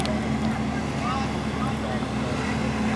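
A pontoon boat's motor drones steadily underneath, mixed with wind and water noise, continuous and fairly loud for a few seconds.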